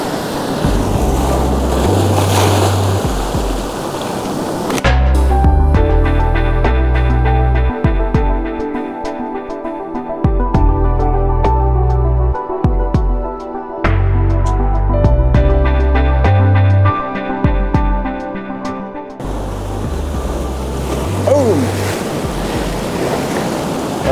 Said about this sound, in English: All I need is a little bit of wave action